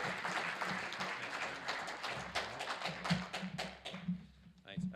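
Moderate applause from attendees at a blueberry industry technology symposium for the chair, Mr. Cook. Individual claps are distinct and uneven and fade toward the end, with talking and a low hum underneath.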